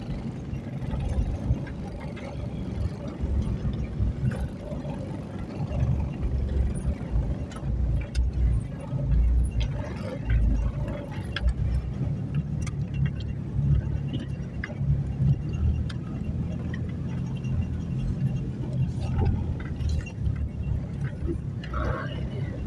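A fruit-hauling truck grinds down a steep, dangerous slope in first gear. It gives a continuous low engine drone and rumble throughout, with voices occasionally heard over it.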